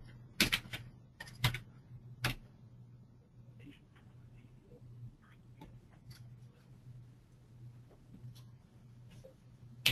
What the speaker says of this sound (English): Now I hear somebody typing in there